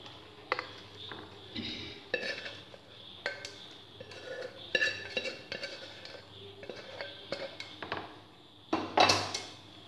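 Cooked green peas are added to a curry in a pan and stirred, producing soft, irregular clinks and scrapes of a utensil against the metal at close range, quiet overall, with a brief louder rustle near the end.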